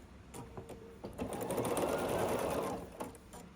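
A sewing machine runs in a short continuous burst while piecing a scrappy sampler quilt block, with faint handling clicks before and after, quiet and close.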